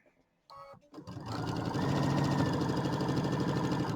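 A sewing machine runs a steady, close whir as it stitches along the overlap of a quilted bench pillow, starting after a few brief handling clicks and building to an even, continuous drone with no talking.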